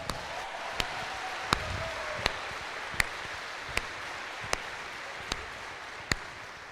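A preacher claps alone, slowly and evenly, giving about ten sharp, distinct claps spaced under a second apart over a faint background hiss.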